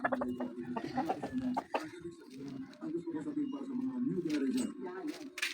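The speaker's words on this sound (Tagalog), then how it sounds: "Yan po yung manok namin." Chickens cluck repeatedly nearby in short, uneven bursts while people talk over them.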